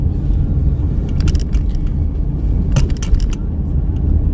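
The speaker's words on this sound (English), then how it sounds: "Go ahead and just take you guys quick around the block before he notices this truck is gone." 2017 GMC Canyon pickup truck driving around a block, a steady loud engine and road rumble from inside the cab with a few light rattles and clicks, no talk.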